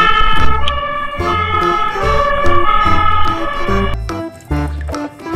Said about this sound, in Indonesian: Wow, mobil damkar, mobil pemadam kebakaran teman-teman.